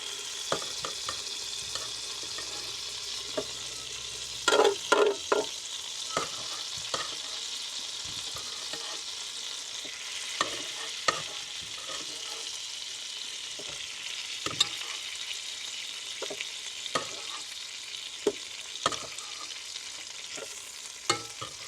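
Steady bright hiss of butter frying in a pan in a campervan kitchen, with occasional sharp clicks and scrapes of stirring throughout; no talking.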